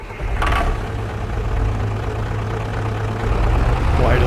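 In Farming Simulator 25, a tractor engine idles with a continuous low, heavy rumble, broken by a short click near the start, and keeps running steadily without speech.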